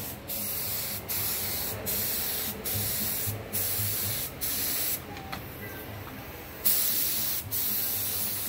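Spray gun hissing steadily while paint is applied to a bracket on a WWII CCKW military truck, a continuous close spray broken by short pauses every second or so as the trigger is released.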